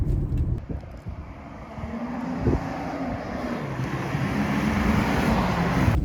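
A 1988 Volvo 240GL drives along, its engine a low steady hum under road and wind rush that slowly builds in loudness, heard from inside the car with no talk.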